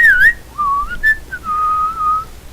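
A loud whistle from a character in the video game Palette Swap, a few sliding tonal notes rising and falling, then answered by a second, steadier whistled tone, heard clearly without any talk.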